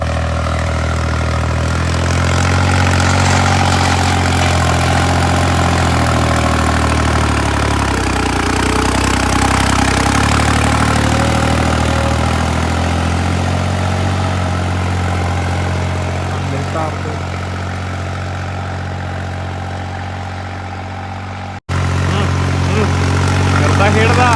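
A Swaraj 3630 Special Edition tractor engine runs steadily and loudly up close with a deep, even rumble, someone talking over it throughout, and a brief cut near the end before the engine carries on.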